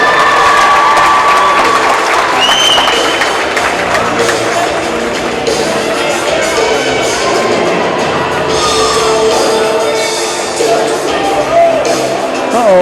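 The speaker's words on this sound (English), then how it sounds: "a big round of applause for our CVAC All-Stars" A large crowd claps and cheers for the CVAC All-Stars, sustained dense applause with shouts and whistles filling the whole stretch, loud and close, with some voices mixed in.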